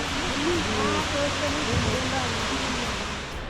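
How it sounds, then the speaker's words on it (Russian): A waterfall near Valle de Bravo, Mexico, hidden ahead behind foliage, gives off a steady broadband rush of falling water. The rush holds even and moderately loud throughout, while a person talks over it. "Вот смотрите, водопад впереди за листвой"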